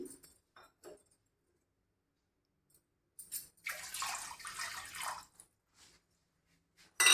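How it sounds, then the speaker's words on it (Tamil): Two cups of water poured into a cooking pan on a home stove, a short splashing gush rising after a few quiet taps and clicks, close and moderately loud, then trailing off into near silence. "அதில் தண்ணியை 2 கப் தண்ணியை அதில் ஊற்றி"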